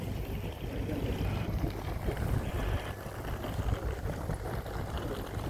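A boat ride out to an island gives a steady rumbling engine and water wash, with wind buffeting the microphone throughout and no clear speech.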